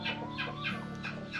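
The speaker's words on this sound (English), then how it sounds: "Got them old lazy Tyson chickens." Tyson chickens cluck in a steady run of short repeated calls close by, with a constant low background hum beneath them.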